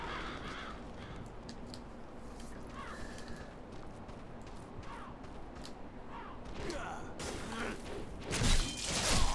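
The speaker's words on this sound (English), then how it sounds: "A lot of crows in this game too, and they're noisy." Crows caw in the video game Demon's Souls, scattered harsh calls over a busy game soundscape, growing louder with a sudden noisy burst near the end.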